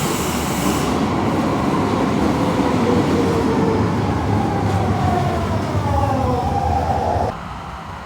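Train ride in Germany heading out of the city toward IKEA: a steady, loud rumble of the rail car with a rising whine, running continuously before dropping off sharply near the end, with no talking.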